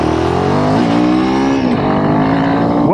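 A Royal Enfield Himalayan 452 motorcycle accelerates with a loud, close engine note that climbs steadily through the gears, dipping briefly at each shift, with no talking over it.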